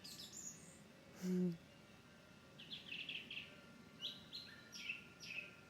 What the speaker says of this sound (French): il y a ce chant magnifique. Les oiseaux qui causent.